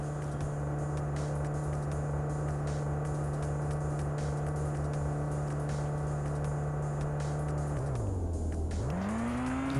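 A car engine in the Kitten Cat Simulator video game hums at a steady low drone throughout. Near the end it dips in pitch and then revs back up, with no talk over it.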